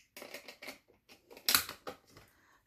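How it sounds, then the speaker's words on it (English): A straight-blade paper trimmer slices through paper in a short series of quiet scraping and clicking strokes, with one louder, sharper cut near the middle of the sequence. "swap back to my straight blade, and trim it at 1 inch again."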